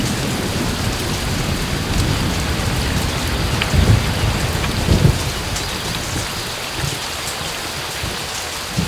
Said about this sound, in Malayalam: ഈ മഴ ഒട്ടും തോരുന്ന ലക്ഷണം കാണുന്നില്ലല്ലോ.